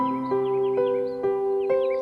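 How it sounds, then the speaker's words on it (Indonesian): Bird calls from Indonesian birds, a string of short harsh caw-like cries repeating roughly every half second over a steady tonal hum, fairly loud and with no voices. "Kicauan ini terancam tak terdengar lagi"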